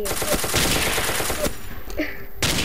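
Rapid automatic gunfire rattles in a dense, loud burst from the blocky shooter game Ace of Spades, pausing briefly before firing resumes at the end.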